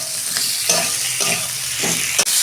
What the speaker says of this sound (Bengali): এই যে মশলাটা কষানো হয়ে গেছে, আমি সবজিগুলো দিয়ে দিচ্ছি। দু মিনিট আমি কষাবো।